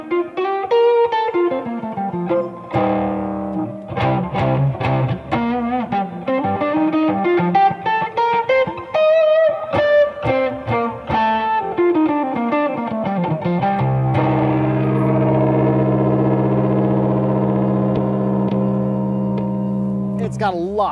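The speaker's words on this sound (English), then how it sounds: "this bone machine, it's kind of like, this kind of like gives a little bit of a trumpet-like sound, even though it's kind of sending a square wave through" A Bone Machine guitar effects pedal pushes a square-wave signal into a buzzy, trumpet-like tone as a guitarist plays quick melodic runs, then settles into a long sustained chord with reverb, no talking over it.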